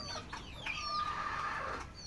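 Native chickens kept on a home balcony cluck and chatter close by, several birds overlapping in a steady, busy stream of short calls.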